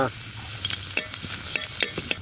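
Garlic and a few dried red chillies fry in mustard oil, crackling and sizzling close up with quick stirring taps against the pan, steady throughout with no talking.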